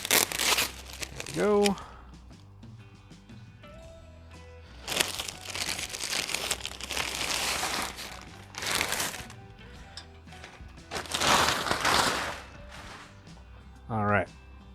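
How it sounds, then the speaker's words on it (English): Tape on the packaging of a Yakima OffGrid Large cargo basket is cut and the wrapping handled, giving bursts of crinkling and tearing at close range, with brief talk in between. "There's some tape, so you need to cut that."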